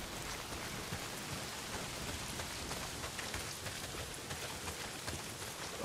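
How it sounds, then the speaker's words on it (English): Heavy rain pours steadily in the post-apocalyptic game Days Gone, a dense, even hiss of drops on surfaces with no talk over it. "not if it's pissing down rain"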